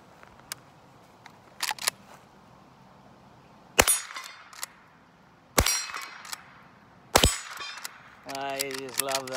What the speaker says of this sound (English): I just love that sound of those targets falling.